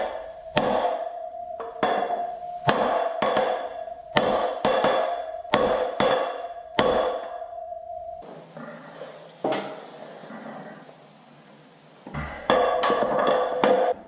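A socket is tapped lightly to seat a wheel bearing into a motorcycle hub while brake rotors and wheel bearings are serviced on a Street Glide. About eight sharp, close, ringing metallic taps come in a regular rhythm, then a quieter pause and a few more taps.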